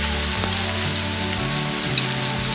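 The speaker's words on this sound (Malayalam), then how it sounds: "ഞാൻ ചിക്കൻ പീസെല്ലാം ഇതിനകത്ത് ഇട്ടിട്ടുണ്ട്. അപ്പോൾ ഇതൊന്ന് ഫ്രൈ ആയി വരണം." Small chicken pieces fry in a pan for cheesy chicken crepes, making a loud, dense, unbroken sizzle from close by over a faint low hum.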